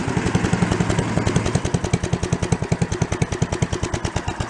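Small gasoline engine on an old log splitter, abandoned for years, runs with a muffler, putting out a fast, even chugging pulse close by that settles into a steady, fairly quiet idle.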